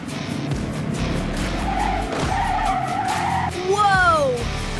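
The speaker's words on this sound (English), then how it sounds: "My car is spinning like a top!" Cartoon bumper car spinning out at a park ride, with a rising-falling tire squeal and skid sweeping through the last second over a busy music and effects bed, fairly loud and close.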